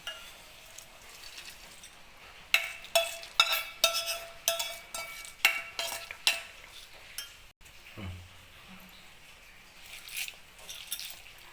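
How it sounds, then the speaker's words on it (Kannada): A spoon scrapes and clinks repeatedly against a pot as fried tempering is added to lemon rice and stirred in, a run of close, irregular metallic knocks and scrapes with quieter gaps and a few softer stirs later, no talking. "ಈಗ ಅದಕ್ಕೆ ಹುರ್ಕೊಂಡಿರೋ ಒಗ್ಗರಣೆನ ಹಾಕ್ತಾ ಇದ್ದೀನಿ"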